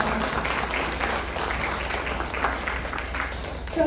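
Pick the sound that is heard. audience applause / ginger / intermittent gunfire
audience applause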